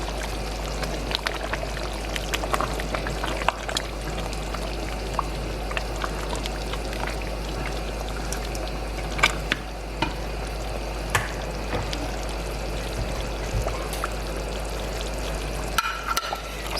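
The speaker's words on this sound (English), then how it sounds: "now I am going to go ahead and add my red oil to it" Red palm oil poured into cassava leaf soup that has been simmering for about half an hour, a steady bubbling sizzle with faint scattered clicks and splashes, up close and with no talking.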